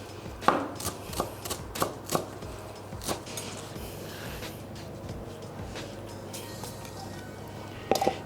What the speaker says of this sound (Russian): Зелень нарезали.